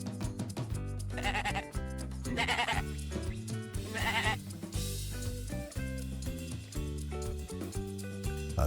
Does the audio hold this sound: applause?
no